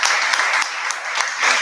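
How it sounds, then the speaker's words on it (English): Audience at a Toastmasters club meeting in Bangalore clapping for a speaker, a brief burst of many hands, dense and even throughout. "let's give her a good round of applause"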